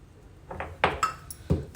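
A teaspoon of cumin seeds pounded in a mortar in a Telangana kitchen, heard as several hard, clinking knocks close to the mic, spaced irregularly.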